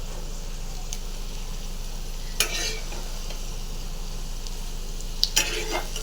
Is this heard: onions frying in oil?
yes